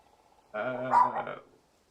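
Dog in the video game Life is Strange 2 giving one short whining growl that rises into a brief bark-like yelp, clear and close against near silence.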